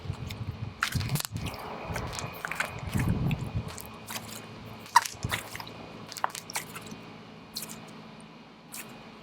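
Oreo-scented school glue slime mixed with black glitter being squished and stretched up close, giving wet squelches, sticky pops and sharp crackly snaps at an uneven pace with no talking.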